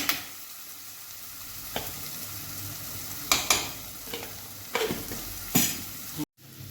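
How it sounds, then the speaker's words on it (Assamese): Soft steady sizzling of pabda fish frying in its own mustard oil in a pan, broken by several scraping stirs of a utensil. "মাছৰ যিখিনি তেল আছিলে সেইখিনিতে ভাজিছোঁ"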